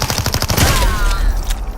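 Shotgun blasts in Super People 2 come as a quick, loud burst of rapid shots, close and punchy, followed by a ringing decaying tail.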